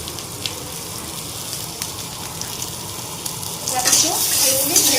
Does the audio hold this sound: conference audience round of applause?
no